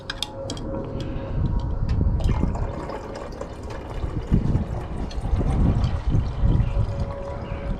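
Liquid poured from a container during gold recovery from purple ceramic CPUs, a dissolved gold solution splashing and trickling into another vessel, close and moderately loud with irregular glugs and drips.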